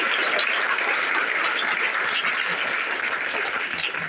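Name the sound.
students applauding at school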